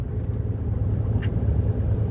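A car drives into a long road tunnel in Abha, Saudi Arabia, giving a steady, close engine and road rumble that holds constant throughout with no voices.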